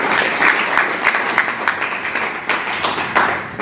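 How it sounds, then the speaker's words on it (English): An audience applauds musicians with dense, sustained clapping that stays loud and steady for the whole stretch, with no voices on top. "let's have a round of applause for the musicians"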